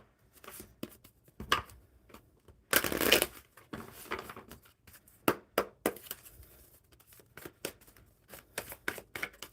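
Crisp riffling and flicking of tarot cards in quick bursts, with a louder sustained shuffle near the start and scattered taps and slides afterward.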